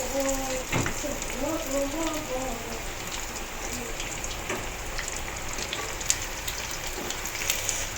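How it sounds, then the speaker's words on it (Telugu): Rain falls steadily in a constant close hiss, with scattered drip taps and a voice speaking briefly early on beneath it. "వాన వస్తుంది."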